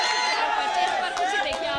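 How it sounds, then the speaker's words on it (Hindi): Family members cheering and clapping for wrestler Bajrang Punia during his Olympic bout, a loud continuous crowd roar with excited voices shouting over it. "चीयर्स कर रहे हैं, तालियां बजा रहे हैं सभी परिवार वाले।"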